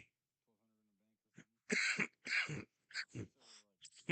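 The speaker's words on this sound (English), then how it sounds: "I haven't coughed like all day." Several harsh, close coughs and throat-clearing bursts in quick succession break a quiet pause, loud and irregular in rhythm.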